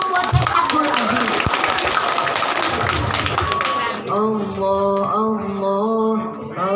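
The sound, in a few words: audience applause for Syekh Abdul Aziz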